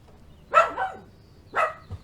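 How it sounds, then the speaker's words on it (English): A dog gives two short, sharp barks about a second apart, fairly close and loud, with no talking over them. "What you barking at, Ella?"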